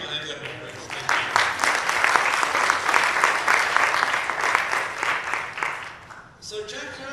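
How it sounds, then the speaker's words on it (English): Church audience breaking into loud, dense hand clapping and applause that holds steady for several seconds, then thins out toward the end. "Give a hand clap for Christ"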